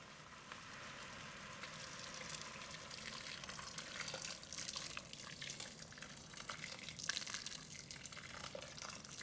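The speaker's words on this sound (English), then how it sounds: "I'm going to go ahead and add water just enough to cover up the meat." Water runs and splashes steadily into a cooking pot over beef for barbacoa de res, a continuous low gushing with small drips, close and fairly quiet, with no voices.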